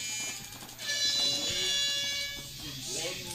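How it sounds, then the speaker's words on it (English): An electronic buzzer sounds at a paintball field during a 2017 AFPL SoCal tournament finals match, a steady, bright tone lasting a few seconds, with an announcer talking over it amid outdoor field noise. "There's a good buzzer."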